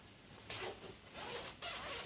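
Zipper on the sleeping bag of a Chicco Lite Way stroller being opened in three quick, close zipping pulls, crisp and clear with no talk.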